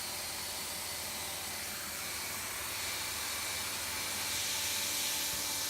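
A hot air plastic welder set around 550 degrees Fahrenheit blows on kayak plastic, a continuous close broadband hiss and airy rush that holds steady and swells slightly toward the end.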